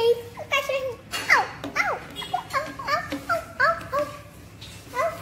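A young child imitates a puppy's yapping and whimpering with a string of high, pitched little yelps, close and fairly loud, with an adult voice talking in between.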